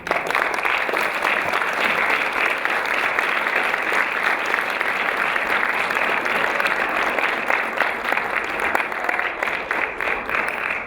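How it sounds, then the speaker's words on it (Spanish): An audience claps steadily after a poetry talk, a dense and even round of applause that holds at the same level for about ten seconds without talk. "Pedimos un aplauso."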